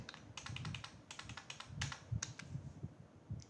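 Fingers typing on a computer keyboard while entering form details, a steady run of quick, light clicks with brief irregular pauses, close and clear with no talk.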